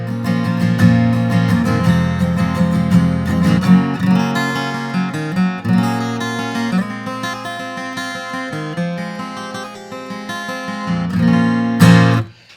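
Acoustic guitar recorded with a close microphone for an airy, intimate pop or rock tone, strummed and picked chords ringing loud and near for several seconds, ending in a sharp strum, with no voices.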